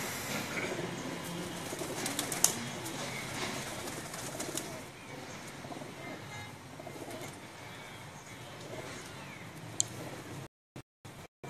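Flying pigeons coo softly on a rooftop amid a steady outdoor background, with a couple of sharp clicks; the low, rolling calls continue throughout, fairly distant and faint.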